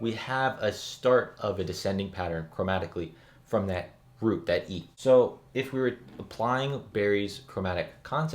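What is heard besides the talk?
None of the usual background noises is heard.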